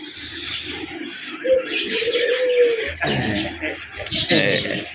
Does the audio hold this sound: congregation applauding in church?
no